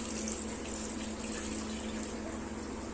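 Water pours steadily into mutton cooking in a pan, a continuous close splashing hiss with a constant low hum beneath it, heard alone.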